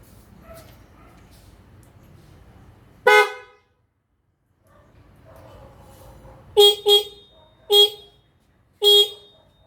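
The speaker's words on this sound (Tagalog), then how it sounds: "Yan na yung stock horn niya." A motorcycle's stock horn beeps close and loud: one honk, a pause, then a quick double beep and two more single honks, with low idle hum in between.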